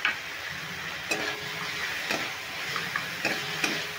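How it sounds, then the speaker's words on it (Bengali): Spices with green chilli and ginger paste being stir-fried in a pan produce a faint, soft sizzle with a few sharp scraping ticks from the spatula, no voices present. "এবার সমস্ত মশলাগুলো আমি ভালো করে নিয়ে কষিয়ে নিচ্ছি।"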